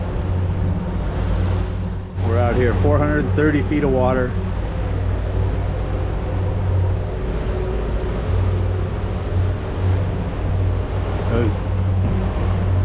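A boat engine runs steadily at 1800 RPM out on open water 430 feet deep, a continuous low drone with surf and wind noise, while someone talks over it near the start.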